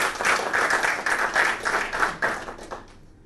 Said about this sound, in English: Can we have a round of applause for Nisha again?